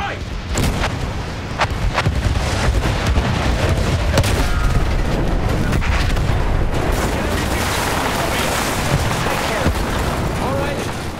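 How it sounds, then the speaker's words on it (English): Heavy artillery fire in the World War I shooter Battlefield 1, a loud continuous barrage of booms and blasts running unbroken for about eleven seconds, with shouting voices mixed into the din. "Artillery!"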